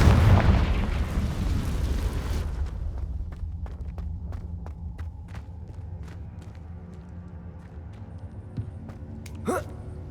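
A heavy booming blast from the Confringo fire spell in Hogwarts Legacy opens loud and low, then fades into a rumbling tail with scattered crackles and small pops, and a short sharp sound near the end.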